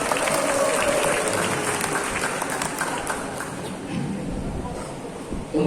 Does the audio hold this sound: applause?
yes